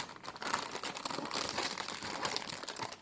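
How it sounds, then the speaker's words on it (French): Crinkling plastic and packaging material rustle and crackle steadily and close by as PC gamer components are unpacked from their boxes, with no talk over it. "On va passer donc au déballage."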